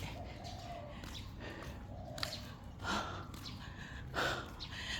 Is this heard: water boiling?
no